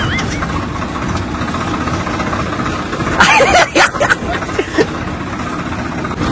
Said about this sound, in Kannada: ಟ್ರ್ಯಾಕ್ಟರ್ ಹೆಂಗ್ ಓಡಿಸ್ತಾರೆ ಅಂತ ನೋಡ್ಕೊಂಡು ಹೋಗ್ತಾ ಇದ್ದೀನಿ